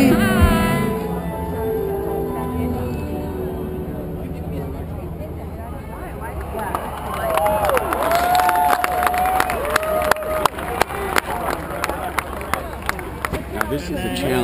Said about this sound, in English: This is a challenge going through this crowd.